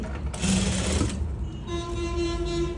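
Sewing machine stitching lace onto salwar fabric, with a close, loud, rapid mechanical whir in two bursts, first coarse and rattling, then a smoother steady hum with a pitched tone, and no talk.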